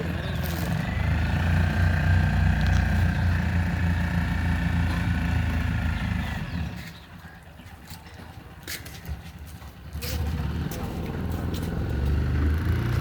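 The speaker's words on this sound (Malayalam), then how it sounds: "അതുവഴി ഒരു ബോട്ട് പോകുന്നു." A motorboat engine drones steadily nearby, dips quieter for a few seconds, then swells back to a loud chugging hum.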